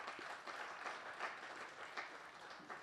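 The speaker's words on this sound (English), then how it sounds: "Let's give them a hand of applause." An audience at the official launch of the Region 5 Youth Games in Windhoek applauds the appointed organizing committee heads, a faint, steady wash of clapping with no speech.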